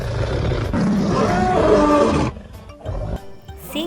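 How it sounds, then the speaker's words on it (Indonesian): A lion roars loudly and close, a broad sustained roar that cuts off abruptly partway through, followed by quieter rumbling and ambient noise. "Singa, lion."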